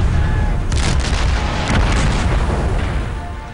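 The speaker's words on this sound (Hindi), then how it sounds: "भारत ने शेबुला और कैमल्स बैक पोस्ट से चीन पर तोप की मदद से गोले बरसाना शुरू कर दिया।" Indian artillery guns shelling Chinese positions from the Sebu La and Camel's Back posts in the 1967 Nathu La mountain battle: a continuous heavy rumble of booming blasts with sharper bursts layered in, loud and sustained throughout.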